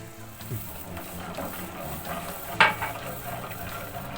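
Water poured slowly into muhlama, a Black Sea cornmeal and cheese dish, cooking in a pan; a steady close sizzle and bubbling, with one brief sharper hiss partway through.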